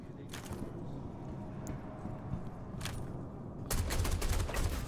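Gunfire in Star Citizen, a steady dense crackle of shots under a busy game ambience, growing louder and heavier in the last second.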